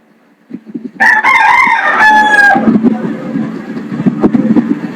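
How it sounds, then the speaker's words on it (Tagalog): A rooster crows loudly and close by in one drawn-out call, followed by softer clucking and general background noise. "Nagtugtugaok na ang manok."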